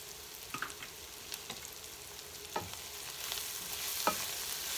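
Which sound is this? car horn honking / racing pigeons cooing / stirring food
stirring food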